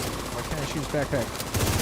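Gunfire from the online shooter The Division 2 in cooperative PvE play, short bursts of rapid shots mixed with game sounds and a voice, with a louder burst at the end.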